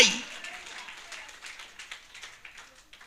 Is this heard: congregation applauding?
yes